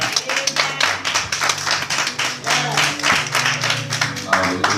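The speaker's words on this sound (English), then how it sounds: "Can we give God a hand clap, please?" A church congregation claps in a fast, rhythmic beat, loud and close, with music playing underneath.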